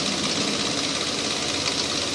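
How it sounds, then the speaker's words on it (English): A Nissan Frontier engine idles after a timing chain replacement, giving a steady, even mechanical hum with a faint continuous vibration at close range and no voices. "Engine runs smooth."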